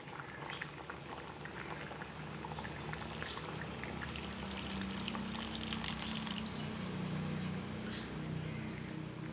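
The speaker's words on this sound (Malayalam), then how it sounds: "ഇനി ഇതിലേക്ക് പുളിവെള്ളം കൂടി ഒഴിച്ചു കൊടുക്കാം" Tamarind water poured into a simmering vegetarian mock fish curry, a faint liquid splash followed by soft continuous bubbling from the pan.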